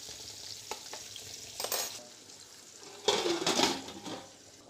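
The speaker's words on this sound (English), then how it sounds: "after 1 minute of my onions frying" Onions frying in hot oil for chicken biryani, a soft sizzle with a few louder bursts of stirring and scraping in the pan, fairly quiet and close with no talking.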